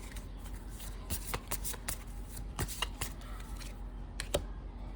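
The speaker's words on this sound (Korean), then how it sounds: "그러면 이제 오라클 카드 한 장 뽑아보도록 할게요" Oracle cards shuffled by hand and drawn, a run of crisp riffling snaps and soft card slides at close range, quiet and with no talking.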